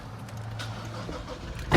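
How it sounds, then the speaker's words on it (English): A Toyota Prado VX starts up: a faint electric whir as the steering wheel motor moves, then a loud low burst as the engine catches at the end, close inside the cabin. "Just going to jump in the car and turn it on."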